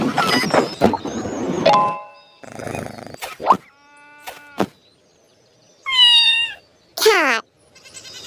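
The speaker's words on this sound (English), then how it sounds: "Cat." A domestic farm cat meows a couple of times, drawn-out and fairly loud. Other short animal calls and noises come before it.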